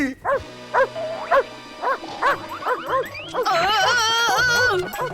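A cartoon dog in a Punjabi children's cartoon gives a rapid series of short, sharp barks, then breaks into a longer, higher whining yelp.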